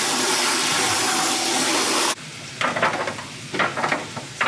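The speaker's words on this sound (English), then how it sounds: "I just got my onions and bell pepper going." Onions and bell pepper frying in a pan, with a loud steady sizzle that cuts off abruptly, followed by quieter clatter and stirring noises at close range.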